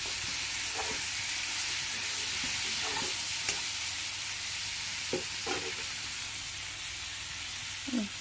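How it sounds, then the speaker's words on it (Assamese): Goat meat curry is stirred and mixed in a pan, producing a loud, unbroken hissing sizzle with occasional soft scraping stir strokes, heard up close with no voices. "মিক্স কৰি দিম সকলো"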